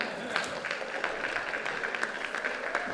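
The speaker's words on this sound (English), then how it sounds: "let's give her a big round of applause" Audience applause at a community celebration for a gold medal winner, a continuous fairly soft wash of clapping heard from a distance in a reverberant hall.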